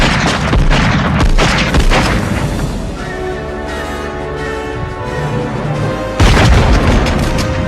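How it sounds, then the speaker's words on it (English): Loud, deep booming gunshots in a burst from the film Die Hard, then a lingering resonant tone before another heavy blast hits near the end. "these big, booming, triumphant gunshots ring out"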